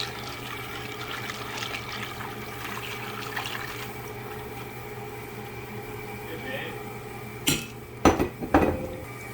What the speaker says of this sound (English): we are gonna add that dissolved water with pickling salt to